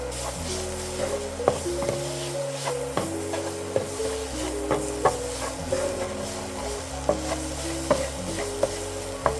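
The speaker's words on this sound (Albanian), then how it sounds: "Përziejmë mielin që të skuqet" Corn flour stirred as it fries in olive oil for a traditional Albanian tave dheu: steady close scraping and tapping strokes over a soft sizzle, with background music throughout.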